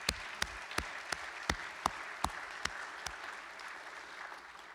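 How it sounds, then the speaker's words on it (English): Sparse, fairly faint clapping at an MLK Day education event, several distinct hand claps at a steady pace over a soft room backdrop. "Let's give them a big hand."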